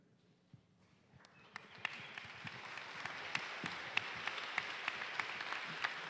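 An audience at a conference speakers' panel breaks into applause that builds within a second and then holds as steady, fairly distant clapping.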